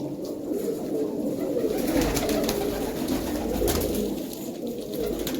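Pure-bred pigeons in a loft in Hardaspur coo softly in a continuous murmuring chorus, low and steady, with flapping and rustling noises now and then.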